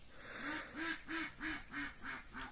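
Muscovy ducks on a small home farm give about seven short, nasal honking calls in a steady repeating rhythm, faint and somewhat distant, with no voices over them.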